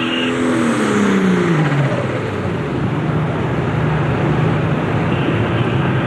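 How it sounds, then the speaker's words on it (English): A 10,000-pound pro stock pulling tractor at the 1992 Ohio State Fair roars continuously under heavy load, loud and close, its engine pitch sliding downward early on before settling into a steady, rumbling drone. "So here comes that nameless tractor for his second and final attempt"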